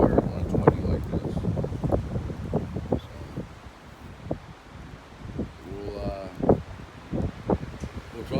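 Strong wind blowing outdoors at a hunting deer camp, rumbling and buffeting the microphone in gusts while someone talks over it close by.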